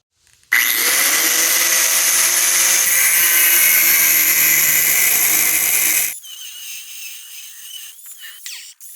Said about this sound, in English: cutting that 3/4 inch plate with an angle grinder, it's not any fun